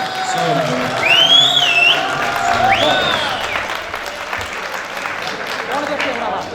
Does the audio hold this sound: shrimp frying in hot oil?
no